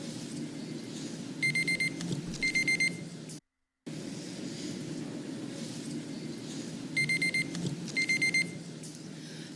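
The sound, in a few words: little beeper going off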